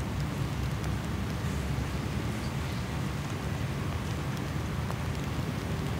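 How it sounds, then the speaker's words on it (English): Rain falls steadily on a golf course during a women's professional tournament round, a dense continuous hiss with wind-like rumble and no voices. "It's raining"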